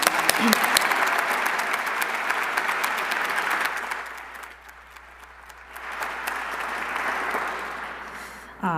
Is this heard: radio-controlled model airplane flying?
no